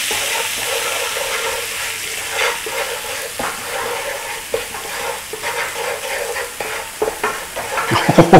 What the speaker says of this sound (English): Bloom out your spices in your oil.